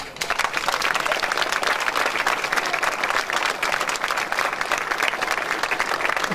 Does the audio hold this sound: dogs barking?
no